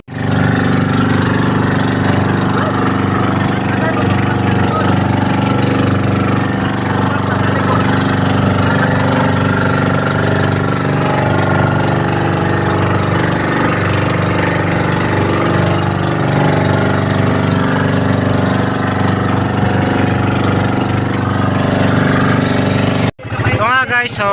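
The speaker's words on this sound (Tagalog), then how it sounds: "So nagmiminor na yung bangka." A wooden outrigger boat (bangka) motor drones loud and steady, close by, as the boat eases off nearing Paly Island, then cuts out abruptly near the end.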